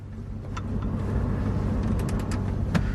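An Audi A3 3.2 V6 drives along with a low, steady engine and road rumble from inside the cabin, plus a few faint clicks and ticks.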